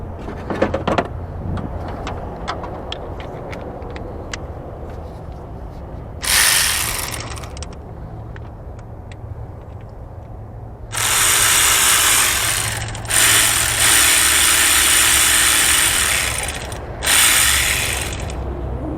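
A ratchet wrench removes still-hot bolts from a leaking water pump on a Hummer, starting with the lower bolts. Many rapid, loud clicking bursts come close up and stop and start in long runs, with no talk.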